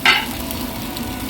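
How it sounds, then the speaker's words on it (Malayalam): Raw chicken pieces drop into spiced masala in a hot pan, sending up a quick burst of sizzling near the start that settles into a steady, close frying hiss. "നന്നായി മിക്സ് ചെയ്തതിന് ശേഷം ചിക്കൻ ഇട്ട് കൊടുക്കാം."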